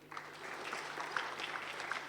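Audience at an Indonesian church gathering claps in a soft, continuous spatter of applause over a low hum, fairly faint and steady, with a few sharper claps standing out.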